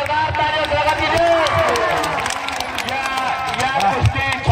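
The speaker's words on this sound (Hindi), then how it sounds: "चलिए भाई जोरदार तालियों से लगा दीजिए।" A crowd at a village dangal wrestling match claps and cheers in dense, continuous applause mixed with babble and shouting voices, loud and close throughout.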